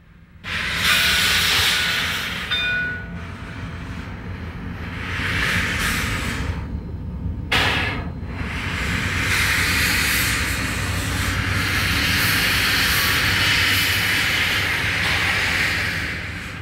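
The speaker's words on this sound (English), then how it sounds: "Listen from the cab to those gears as number 12 takes its train from Silver Plume to Georgetown" A Lima three-truck Shay geared steam locomotive, number 12, pulls its train from Silver Plume to Georgetown, heard from the cab as a loud, continuous mechanical roar and hiss. The sound surges in waves and drops out briefly midway.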